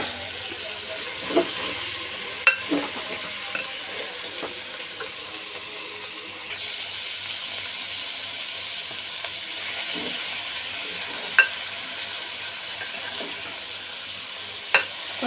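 Goat meat just added to a pan after ginger-garlic paste, for goat head curry, frying with a steady low sizzle and hiss while being stirred, with occasional spoon scrapes and clacks and no talk.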